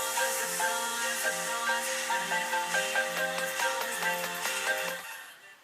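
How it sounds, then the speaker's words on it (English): A melodic phone ringtone used as an alarm plays loud and steady for about five seconds, its repeating tonal pattern in tune with radio music, then cuts off and fades. "I managed to get my ringtone, well, which is meant to be like an alarm, in tune with the radio."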